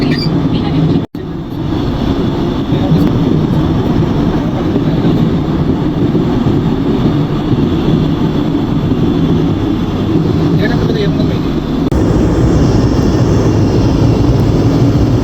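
Airliner cabin noise on a flight from Hyderabad to Ayodhya: a loud, steady broadband engine and air roar that continues throughout, with a brief dropout near the start.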